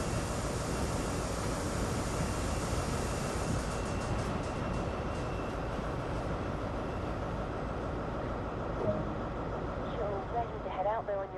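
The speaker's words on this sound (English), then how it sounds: "All you need to do now is bring the train to a gradual stop." A GWR train in Train Sim World brakes gradually to a stop, with a steady loud rumble and rail noise throughout, high brake hiss fading partway, and a few rising squeals near the end, under a narrating voice.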